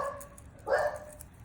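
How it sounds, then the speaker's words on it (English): A dog gives a single short, faint bark at a distance against quiet room noise. "here's my dog barking"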